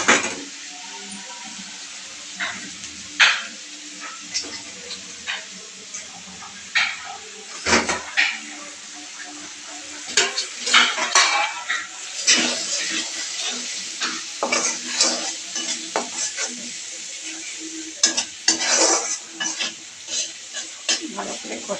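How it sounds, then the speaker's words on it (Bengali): Grated coconut being stir-fried with spice masala in a pan, the spatula scraping and clattering in irregular strokes over a low sizzle, close and fairly loud, with brief bursts of activity and no talking. "নারকেলটা দিয়ে মশলাটা একটু ভালো করে কষাই নেব।"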